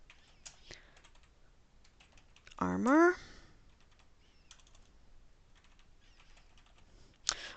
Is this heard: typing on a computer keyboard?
yes